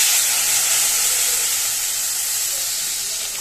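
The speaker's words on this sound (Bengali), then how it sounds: "তো চলো এটা একটু জল দিয়ে দিই এবারে" A splash of water hits a hot cooking pan in a home kitchen and sets off a loud, dense steam hiss that slowly fades over a few seconds, with no talking.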